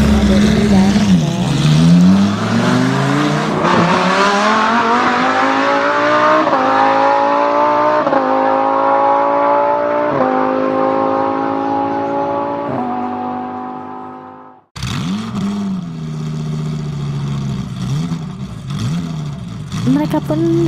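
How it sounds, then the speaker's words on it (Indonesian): A car engine revs and pulls away on an empty road, its pitch climbing through the gears before fading out, then another stretch of engine noise follows. "Di sini tidak ada mobil yang lewat sama sekali ya guys, kecuali mobilnya Barbie dan Ken"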